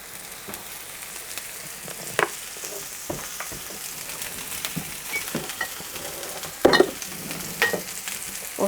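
Mushrooms sauté in oil in a frying pan over high heat, giving a continuous close sizzle. Occasional stirring scrapes and knocks sound, with a sharper clatter near the end.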